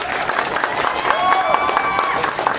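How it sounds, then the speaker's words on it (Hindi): Audience applause welcoming the artist Azad at a mega event, steady dense clapping throughout, moderately loud with crowd noise. "जोरदार तालियों से आजाद का स्वागत कीजिए।"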